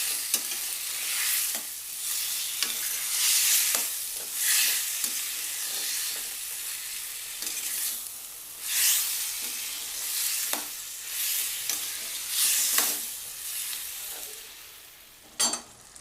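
Tomato pieces frying in a little oil while a spoon stirs them, a continuous close sizzle broken by repeated scraping strokes, with no talking.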